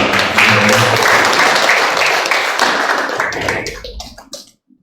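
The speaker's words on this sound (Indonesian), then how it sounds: "Hadirin boleh kita tepuk tangan untuk Bapak." An indoor audience at a formal Indonesian madrasah hall inauguration bursts into loud, sustained applause, dense clapping that holds steady for several seconds before tapering off into silence.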